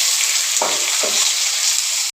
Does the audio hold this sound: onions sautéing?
yes